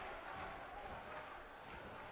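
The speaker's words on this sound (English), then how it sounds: "And the crowd calling for Shaggy to unmask this monster." A wrestling crowd chants and roars in a steady, dense wash of voices, calling for the masked Shaggy to unmask his opponent, with no single voice standing out.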